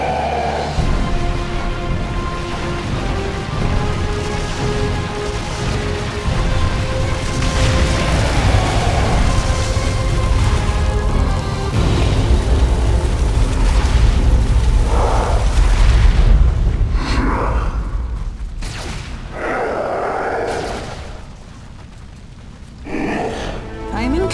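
Heavy artillery barrage from Imperial Guard batteries in the Warhammer 40,000 strategy game Dawn of War 2: Retribution, with deep rumbling booms rolling continuously under a game voice, then a few sharper bursts near the end.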